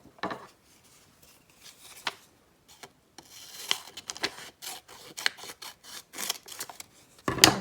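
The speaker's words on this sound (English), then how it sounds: "Should I cut this off?" Scissors cut paper for a glue-book collage journal, giving sharp snips and rustling in irregular bursts, sparse at first and then busier, close and fairly quiet, with no talking.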